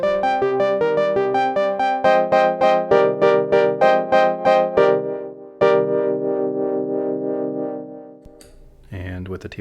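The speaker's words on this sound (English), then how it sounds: "Again, clean sounds like this." Clean, dry Elektron Digitone synth pattern with no effect on it: a quick, evenly pulsing run of bright plucked notes, then a few held tones, ending in a short burst of different noise.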